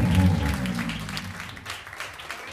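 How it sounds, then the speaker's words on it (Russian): A concert audience applauds the musicians with a moderate patter of clapping. A low sustained tone underneath fades as the clapping continues steadily. "аплодисменты нашим музыкантам!"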